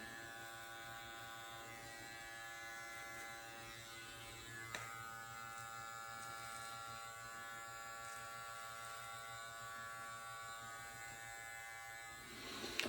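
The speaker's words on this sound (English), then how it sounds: "we are gonna use the trimmer on the mustache" Steady, even buzz of a Babyliss electric beard trimmer running close by, holding a constant drone for the whole stretch with one brief click midway and no talking.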